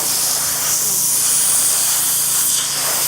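A Jet Clear device sprays saline onto skin with a loud, continuous high-pitched hiss that stays steady and close throughout, with no voices.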